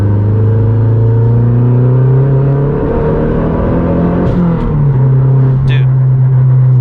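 A Mazdaspeed 3 engine revving while driving, a loud close droning tone that climbs and falls with the revs inside the cabin, with people talking over it.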